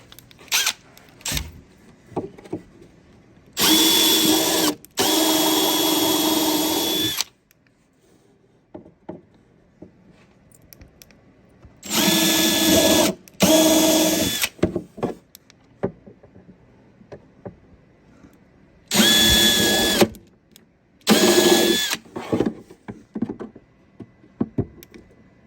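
A router fitted with a flush trim bit cuts around a wooden ring screwed down in a workshop, giving three loud sustained whining runs of a few seconds each, separated by quieter stretches with small knocks.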